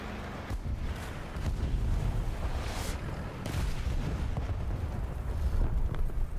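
Booming explosions and heavy blasts in a War Thunder tank battle, a big bomb going off amid steady rumbling combat noise that fills the whole stretch at a loud, dense level.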